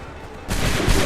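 A massed musket volley from a line of soldiers in Assassin's Creed 3 bursts out as one loud, dense crackling roar that follows a brief quieter lead-in.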